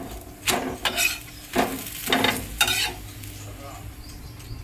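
A mixed dal dosa cooks on a pan, with a faint sizzle under several distinct scraping and stirring strokes of a metal spatula, spaced a half second or so apart, close and fairly loud; no talking.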